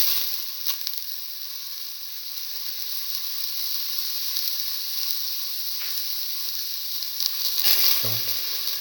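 Ginger sizzles in a pan with garlic and shallots, a steady, close frying hiss lasting throughout, with faint stirring scrapes and no talking.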